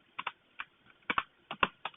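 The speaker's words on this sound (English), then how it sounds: "I'm terrible at typing." Typing on a computer keyboard while building a calculator in Visual Basic, with about a dozen sharp, close key clicks that come in quick pairs and uneven bursts and no talking over them.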